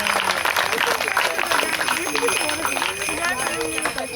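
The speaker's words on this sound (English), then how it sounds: "Give all our corn dancers a big round of applause." A crowd at a Seneca heritage day gathering claps for corn dancers, a dense patter of hands with a voice speaking over the applause.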